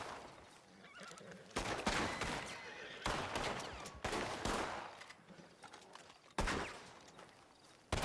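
Gunfire in the Western game Red Dead Redemption 2 on the WildRP roleplay server, several sharp shots with echoing tails over horse whinnies and hoofbeats, moderately loud.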